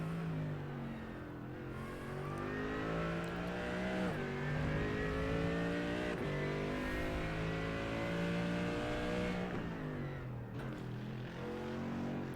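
A GT3 race car engine in iRacing screams through a lap, its pitch climbing through each gear and dropping sharply on upshifts and braking, loud and continuous with no talking.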